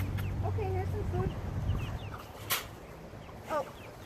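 Chickens cluck and murmur close by in a series of short, wavering calls, with a couple of sharper notes later and a person's voice mixed in underneath.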